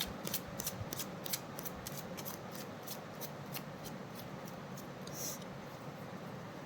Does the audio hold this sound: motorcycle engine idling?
no